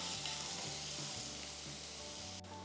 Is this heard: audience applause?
no